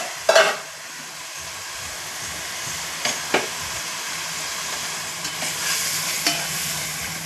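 Cooked beef being stirred into a hot frying pan for a home-cooked Sunday special, with a steady sizzle and hiss and a few sharp scraping clatters of the spoon against the pan.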